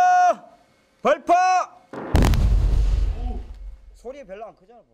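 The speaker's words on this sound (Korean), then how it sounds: "강력한 폭발로 인해 숨겨져 있던 옥이 그 모습을 드러낸다." A dynamite blast in a Korean jade mine bursts in a sharp, loud crack, then a long rumbling decay. Shouting voices come before it, and faint voices follow afterward.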